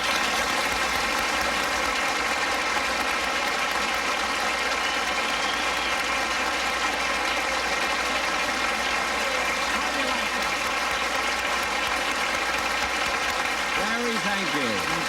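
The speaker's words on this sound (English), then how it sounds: "Listen to that applause." Studio audience applause greeting Jack Benny as he walks onto a 1971 television variety show, a steady wash of clapping filling the whole stretch at full volume with no one speaking over it.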